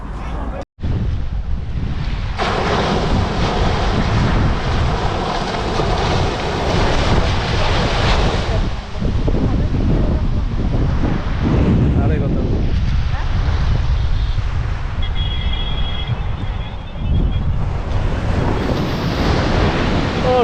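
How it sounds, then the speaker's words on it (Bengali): Ocean waves roll and break continuously at Dhanushkodi beach, loud and close, with heavy wind buffeting the microphone throughout. "ঢেউ যা দিচ্ছে মানে অসাধারণ, পুরীর থেকে কম কিন্তু হেভি লাগছে।"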